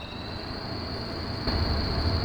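Truck engine in the off-road game Spintires: Mudrunner, a steady loud droning rumble with a high whine on top, swelling slightly louder partway through, no talk.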